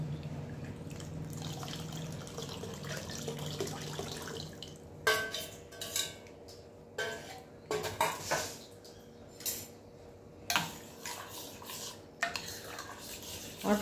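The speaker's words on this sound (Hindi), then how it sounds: "अभी इसमें हम डालते हैं पानी" Water trickles and splashes into a pot of cooked lentils (dal), followed by intermittent clinks and scrapes of a utensil stirring against metal, close by.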